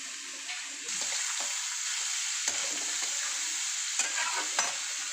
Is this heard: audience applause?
no